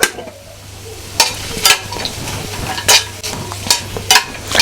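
Tomatoes, spices and cashews fry in a pan with steady sizzling, broken by several sharp scraping stirs and clinks of a utensil against the metal.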